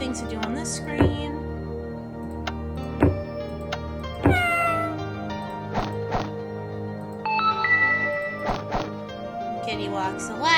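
A black cat in the video game Escape Artist meows repeatedly, several clear, rising and falling mews spaced a second or two apart, mixed with soft game thuds and a bright chiming tone.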